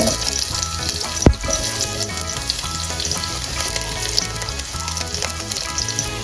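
Onion sautés in a hot pan as the first step of chicken binakol, a dense, loud, continuous sizzle with one sharp clatter of a utensil near the start.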